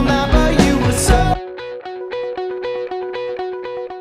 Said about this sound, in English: I put a tiny amount of distortion just to make it sound a little bit more real